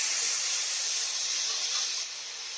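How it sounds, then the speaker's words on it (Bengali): Spice paste sizzles in hot oil with salt added, a steady close hiss of frying that drops slightly in level near the end. "স্বাদ মতো নুন দিয়ে মশলাটাকে ভালো করে কষে নেব।"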